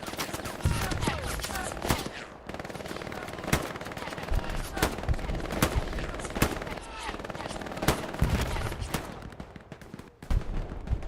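Dense automatic and rifle gunfire in the World War II shooter Hell Let Loose, a competitive 49v49 night match on the Remagen map, with sharp close shots cracking over constant distant firing while a commentator talks throughout.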